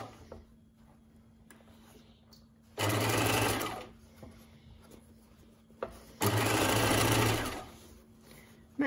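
Sewing machine stitching a sleeve seam on scrubs, two steady whirring runs of a few seconds each, close and loud, separated by quiet pauses with faint handling noises.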